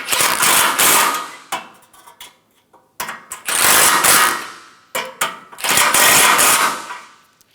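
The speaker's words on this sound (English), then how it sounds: "Using a 13mm socket on a 3-inch extension," A 13mm socket on a 3-inch extension snugs down radiator support bolts on a 2007-2012 Nissan Altima, giving three loud bursts of rapid ratchet clicking separated by brief pauses, close by.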